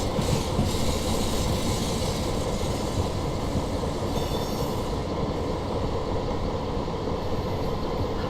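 Cab-side sound of a passenger train braking on the Newport to Cardiff line: a steady, dense rumble of wheels and motion, with faint high squealing early on, continuous and loud throughout.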